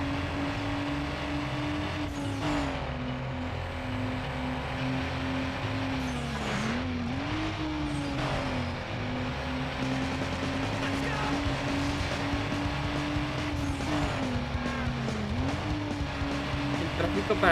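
Racing car engines in Need for Speed Underground, a steady high-pitched engine whine with pitch dips at gear shifts, continuous and loud, with occasional whooshes of passing traffic.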